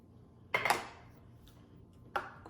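Homemade salsa is stirred in a bowl with a utensil, giving two brief clattering scrapes about a second and a half apart over quiet background, with no talking.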